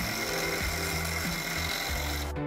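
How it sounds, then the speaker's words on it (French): A metal file works the end of a nut for a homemade giant electric paddle board, making a steady run of rhythmic rasping strokes, close and continuous, with no talking. "Voilà pourquoi j'ai limé un bout de l'écrou."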